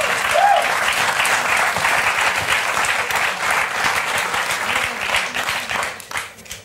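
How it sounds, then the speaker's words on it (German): A studio audience on a German TV cooking show applauds warmly for a potato dough, a full, continuous round of clapping that starts loud and tapers off near the end. "Einen Applaus für den Kartoffelteig."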